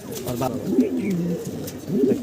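Racing pigeons coo in low, throaty bursts close by at a pigeon farm, with some background voices and noise mixed in.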